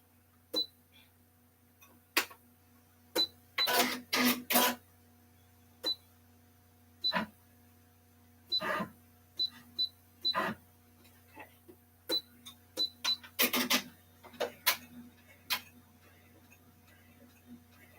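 A home sewing machine with freshly changed needles, playing up and failing to catch the thread, runs in short mechanical bursts and clicking ticks separated by pauses over a faint steady hum.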